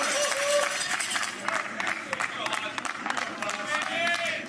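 Rowdy sideline crowd cheering and clapping at a pro pickleball match, a loud continuous roar with bursts of claps and shouts throughout, with voices mixed in.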